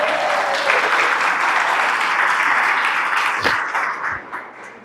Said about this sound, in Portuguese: Uma salva de palmas para o Ian.